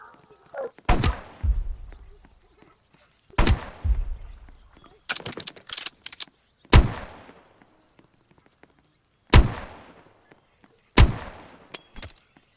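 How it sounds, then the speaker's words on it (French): Pistol shots in the Roblox-style game 99 Nights in the Forest, about seven sharp, loud single cracks and short clusters spaced a second or two apart, with light chatter between them. "on va les tuer avec le pistolet"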